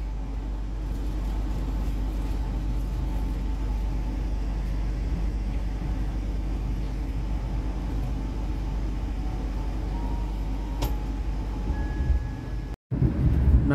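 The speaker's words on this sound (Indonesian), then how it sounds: "kereta api Jayabaya diberangkatkan kembali dari stasiun Pekalongan" Jayabaya passenger train running at night after leaving Pekalongan station, a steady, loud low rumble and roar heard from inside the carriage, unbroken for many seconds before a brief dropout.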